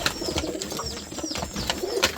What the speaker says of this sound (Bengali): এই জায়গাটা অনেক কবুতর